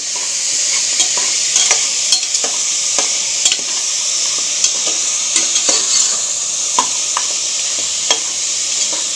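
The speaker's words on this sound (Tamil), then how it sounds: "இந்த நல்லா வதக்கிக்கோங்க." Pieces sautéed in a frying pan hiss steadily while a utensil stirs them, with scattered scraping clicks over the constant loud sizzle close by.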